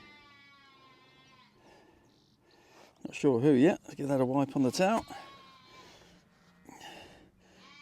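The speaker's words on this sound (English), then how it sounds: "The sheep really aren't happy." Sheep bleat in a field during a metal-detecting outing in Derbyshire, UK, with several loud wavering calls close by in quick succession, and a person talks before and after them.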